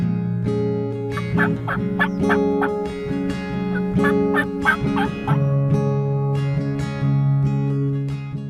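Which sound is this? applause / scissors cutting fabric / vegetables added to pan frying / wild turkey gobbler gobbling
wild turkey gobbler gobbling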